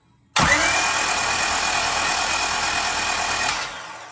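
The J-series engine swapped into an EK Honda Civic spins on its starter through a temporary connection with no spark plugs fitted, giving a loud, even whirring drone of about three seconds that begins abruptly and fades out.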